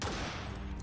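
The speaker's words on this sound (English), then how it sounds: "It even has a gun built in. To aim it, press L2. While aiming, shoot with R2." A single loud, booming gunshot from the gun built into a mech in the video game Biomutant, close and brief, filling the short moment.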